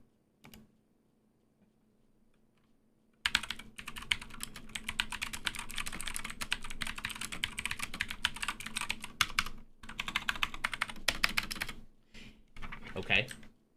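Rapid, clattery typing on a computer keyboard after a quiet start, continuous bursts of key presses with short pauses, close and fairly loud, with a speaker talking around it.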